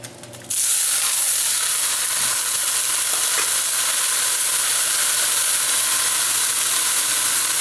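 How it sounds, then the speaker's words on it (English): Beef hits a hot pan and starts sizzling, a sudden loud, steady hiss that carries on evenly at close range with a faint stir or two. "About to brown our beef and add all of the other ingredients."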